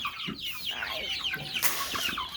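Barred Rock chickens cluck and chatter inside a barn on a windy day, with several birds close by making overlapping short calls and squawks.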